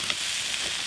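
Potato and green jackfruit pieces fry in hot oil in a pan, giving a steady, close sizzle with a faint stir-like scrape.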